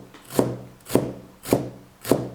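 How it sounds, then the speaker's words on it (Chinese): Freshly washed, drained garlic chives are chopped with a knife on a cutting board: four evenly spaced, close thuds in a slow, steady rhythm, each with a short crunchy tail. "洗好的韭菜，我们先给它控一控水分，分2次来切，这样更好切一些"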